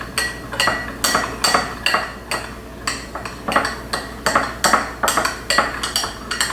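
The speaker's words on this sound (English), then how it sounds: "So you want to keep mixing that until it dissolves" A utensil stirring sourdough pizza dough mixture in a bowl until the yeast dissolves, with regular clinking, scraping strokes in a quick steady rhythm, close and fairly loud.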